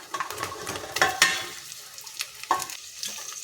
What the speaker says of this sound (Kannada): ಆನಿಯನ್ ಈ ಥರ ಫ್ರೈ ಆದಮೇಲೆ ಇದಕ್ಕೆ ಇವಾಗ ಒಂದೊಂದೇ ವೆಜಿಟೇಬಲ್ಗಳು ಹಾಕ್ಕೊಳ್ಳೋಣ